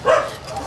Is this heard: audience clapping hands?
no